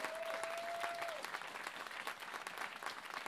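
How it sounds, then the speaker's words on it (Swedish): A live audience bursts into sustained applause and cheering for Kent Norberg, a dense, steady wash of clapping hands lasting throughout, with a brief tonal whistle-like note early on. "Så jag tänkte att kanske man kan få ett jubel här för Kent."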